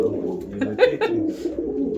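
Pigeons coo with low, soft throaty calls repeating in short phrases, close by, while a voice murmurs faintly underneath.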